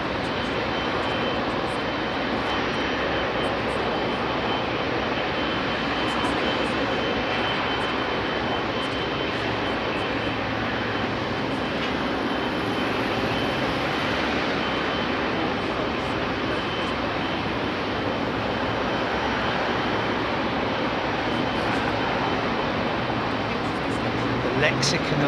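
Airbus A380 airliner on the ground at London Heathrow Airport in the evening, its engines giving a steady, broad roar that holds without a break for the whole stretch, with voices talking over it.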